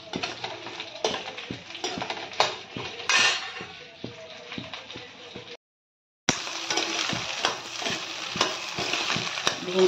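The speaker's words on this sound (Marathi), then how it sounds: "तेल टाकून भेंडी छान फ्राय करून घेऊ" Okra frying in oil in a pan in a home kitchen, with a steady sizzle and frequent clinks and scrapes of a utensil stirring against the pan, a brief gap of silence partway through and no talking.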